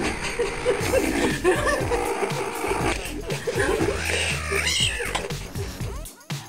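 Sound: cat meowing

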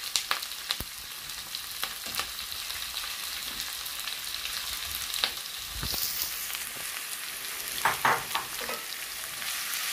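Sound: onions frying and being stirred in a pan

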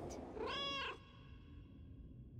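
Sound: cat meowing in a video game

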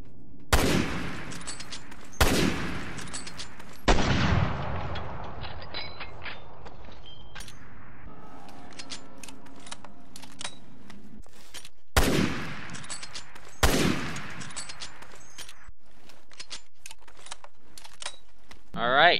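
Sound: M1891/30 bolt-action sniper rifle firing in video game Resident Evil Revelations 2

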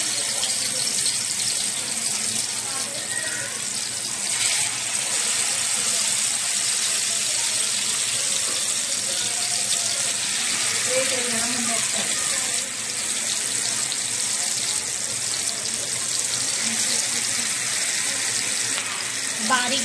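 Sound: fish frying in hot oil

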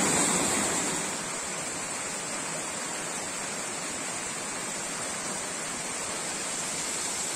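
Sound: ephemeral waterfall by a river above Uchan-Su

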